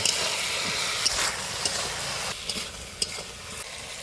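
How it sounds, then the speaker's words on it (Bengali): Tender ridge gourd and potato pieces stirring in a pan of cooked-down spice paste give a steady close sizzle, with scraping stir strokes and small clicks over the frying. "এবার কেটে রাখা ঝিঙে আলুটা দিয়ে দিই"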